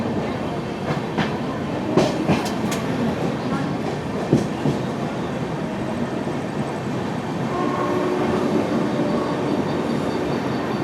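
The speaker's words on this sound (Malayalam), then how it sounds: "ദാദറിലെ പ്ലാറ്റ്ഫോം 12ലേക്ക് എത്തുകയാണ്" A train rolls into platform 12 at Dadar station in Mumbai, wheels clacking over rail joints in irregular clusters beneath steady rumble and station ambience, with faint voices in the background.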